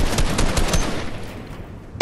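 Rapid gunfire in the video game Fortnite, a quick run of sharp shots close together at the start, then fading into quieter game noise with a sudden loud burst at the very end.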